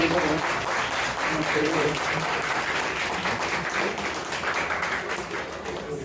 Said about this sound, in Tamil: ஒரு பலத்த வரவேற்பு, ஒரு கைத்தட்டல்